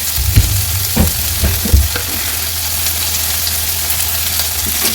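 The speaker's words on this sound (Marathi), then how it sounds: "सर्व मसाले व्यवस्थित तेलात परतवून घेऊ" Ground spices with turmeric, red chilli and cumin powder sauté in hot oil with salt, a close steady sizzle punctuated by scraping stirs early on.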